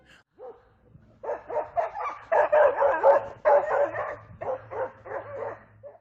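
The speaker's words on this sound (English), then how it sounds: "A large white-brown dog suddenly showed up and attacked the wolf." A large white-brown dog barks and yips in rapid, agitated bursts while fighting a wolf at a camping spot, loud and fairly close. Whimpering is mixed in and the dog barely pauses.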